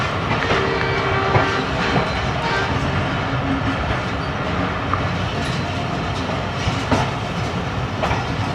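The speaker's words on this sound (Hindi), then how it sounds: "सामने आ रही है जी 10 डाउन अल्लामा इकबाल एक्सप्रेस।" Allama Iqbal Express (10 Down) passing on the rail line, a loud continuous rumble of rolling wagons with rhythmic clickety-clack over the joints throughout, close to the listener.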